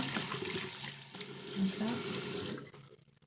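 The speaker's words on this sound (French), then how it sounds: "Donc là le cheveu il est quasi rincé." Tap water runs steadily into a sink while hair extensions are rinsed, a close, continuous splashing flow that cuts off near the end, leaving a few faint drips.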